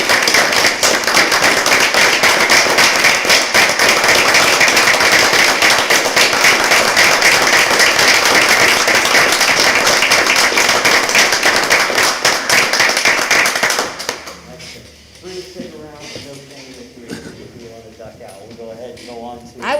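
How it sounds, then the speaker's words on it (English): A round of applause at a school board of education meeting, loud dense clapping from a roomful of people for about fourteen seconds before fading as voices begin talking. "I'll maybe pause for one more round of applause for everyone."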